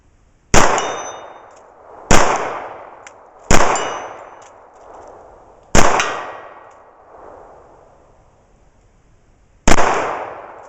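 A Remington R1 1911 pistol fires .45 ACP rounds outdoors, five loud sharp shots spaced irregularly about one to four seconds apart, each followed by a ringing decay, with no talk.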